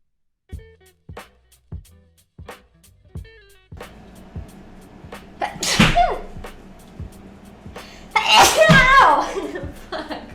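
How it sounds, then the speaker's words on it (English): A young woman sneezes loudly on a livestream; short sniffs and breaths build up before a forceful sneeze, followed by a second burst and voice sounds, all close to the microphone. "Oh, I gotta sneeze."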